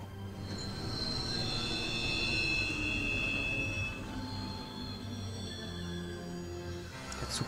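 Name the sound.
train running in the video game Final Fantasy XV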